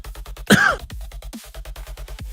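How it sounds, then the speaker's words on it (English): A single harsh cough bursts out and is followed by a brief throat clearing, close and loud, over a steady rhythmic pulsing background beat. "I'm like having this cough for way too long now."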